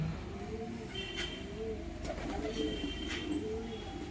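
Close, steady cooing from Giribaj pigeons in a loft, repeated throaty calls rolling one into the next, with faint clicks and rustles in the background and no voices.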